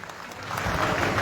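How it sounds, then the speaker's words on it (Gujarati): Farmers at a protest gathering in Jetpar village clap together in a short, close burst of applause that builds and holds steady. "જોરદાર તાળીઓથી વધારશું"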